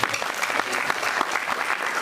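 Steady applause from an audience, many hands clapping continuously at an even level with no pause.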